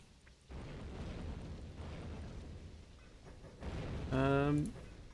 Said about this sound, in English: And more explosions, more depth charges, all the depth charges.